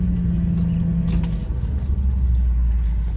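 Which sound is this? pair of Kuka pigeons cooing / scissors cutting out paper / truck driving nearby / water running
truck driving nearby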